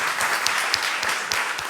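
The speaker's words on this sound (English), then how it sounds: "A big round of applause for Tux" Audience at a PostgreSQL tech conference talk claps for a volunteer on stage, a dense, loud burst of applause sustained throughout with a few sharper individual claps standing out.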